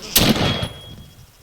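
A single 7.62 round fires in the video game Arma, one sharp loud report followed by a short fading echo tail.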